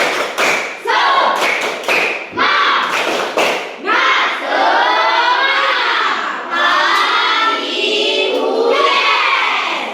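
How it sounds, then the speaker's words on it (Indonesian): Fifth-grade schoolchildren in a classroom perform the tepuk semangat clapping chant, with sharp rhythmic claps and thuds followed by loud shouted chanting from the whole group. "Tepuk semangat dulu, tepuk semangat."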